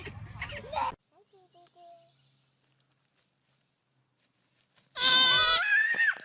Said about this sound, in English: What noise does a lamb make?